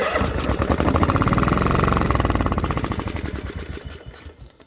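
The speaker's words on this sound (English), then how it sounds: "As you heard, it started and ran." Craftsman lawn tractor engine catches after carburetor cleaner is sprayed in, running loud and close with a rapid chugging beat that slows and fades over a few seconds.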